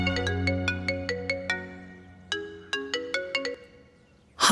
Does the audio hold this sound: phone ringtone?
yes